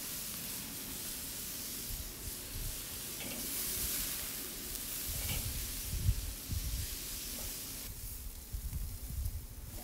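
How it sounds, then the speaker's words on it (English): Filipino-style pork barbecue skewers with a barbecue glaze sizzle on a grill, giving a steady, soft hiss with a few louder crackling swells. "Afterwards, we'll move the skewers to the cooler parts of the grill to cook all the way through."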